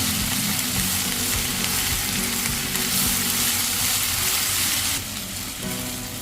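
Onions sizzle and fry in a pan with green chillies and curry leaves, a loud, close, continuous crackle with occasional stirring scrapes, alone without talk.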